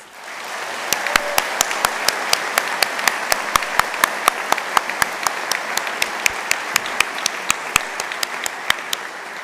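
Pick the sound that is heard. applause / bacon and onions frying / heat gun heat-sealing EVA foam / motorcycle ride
applause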